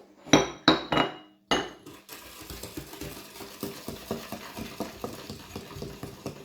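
Flour and baking powder being mixed into pancake batter in a bowl: a few loud clinks of the whisk against the rim, then fast, even stirring taps close by.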